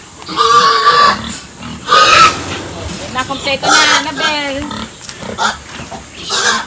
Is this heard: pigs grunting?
yes